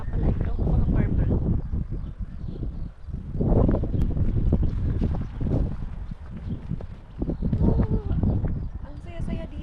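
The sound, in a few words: strong wind blowing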